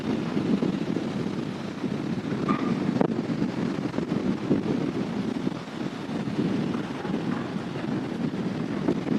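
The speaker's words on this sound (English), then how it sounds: "It's almost like the wind is picked up more so than earlier." Strong wind at SpaceX Starbase in Texas buffets the microphone in a steady, loud roar with gusty rises and dips throughout.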